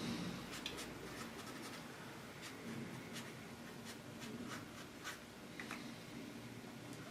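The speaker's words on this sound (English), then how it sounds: "we'll go ahead and we'll mark this on here, Tom, and we will add this to the box." Pen marking on a tool in a toolbox, producing faint scratchy strokes repeated steadily throughout, heard alone without talk.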